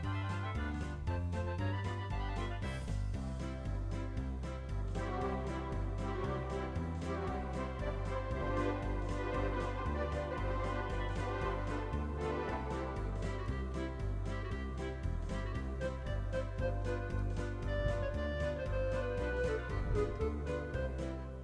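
A polka played on an arranger keyboard at tempo 116, a bouncy oom-pah rhythm with steady bass and chords under a melody, continuous and moderately loud with no talking.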